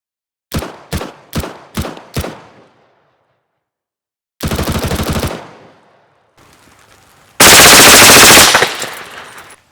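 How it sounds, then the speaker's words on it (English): A suppressed MP7 submachine gun fires close by: five separate sharp shots first, then a short automatic burst, and finally a longer, louder sustained automatic burst, with quiet gaps in between. "you just fired the suppressed MP7"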